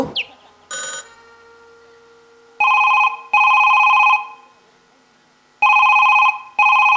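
A mobile phone rings in a village home, sounding a repeated two-tone electronic ringtone in several loud bursts with short gaps, close by, after a brief initial chirp and a short blip.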